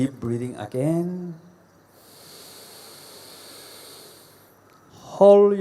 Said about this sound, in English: Please breathe, deep breathing again.